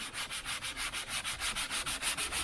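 Hand sanding on car bodywork, steady back-and-forth rasping strokes in a regular rhythm, close and fairly loud, with no voices.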